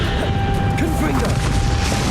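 A Confringo explosive spell in Hogwarts Legacy lands among dense, loud game battle noise, a sustained rumbling blast with crackling debris, while a voice is heard over the action.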